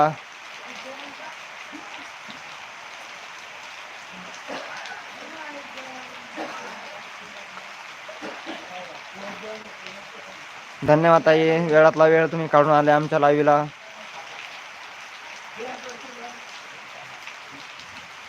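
Steady rain hiss runs throughout at an open-air farm setting, with someone talking over it and a brief louder burst of harmonic voice in the middle.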